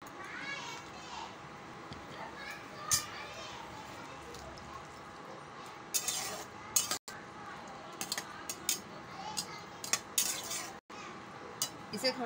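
Okra with small fish stirred in a pan in a Bengali home kitchen, heard as scattered metallic scrapes and clinks of a spoon against the pan, while children's voices and chatter carry through the background.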